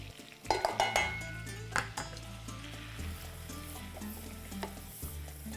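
Flour and butter roux cooking in a pan, with a steady close sizzle, repeated scraping and stirring of a utensil against the pan, and a few sharper clinks early on.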